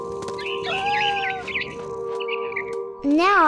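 Bird in What Remains of Edith Finch chirps in short bright tweets and trills over a steady ambient game drone, with a louder rising call at the end.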